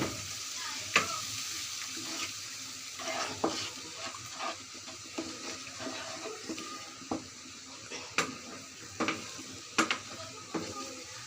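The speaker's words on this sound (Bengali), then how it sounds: "তো হালকা পানি দিয়ে কষিয়ে নিচ্ছি" Jackfruit seeds sauté with dried fish and a little water in a pan, a soft continuous sizzle punctuated by regular scraping and clinking stirs against the pan.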